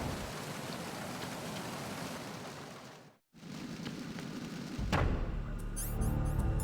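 Rain in the stealth video game Metal Gear Solid 2 hisses steadily and fairly loudly, cuts out briefly in a short silent gap, then returns, with a sharp hit and heavier low rumble toward the end.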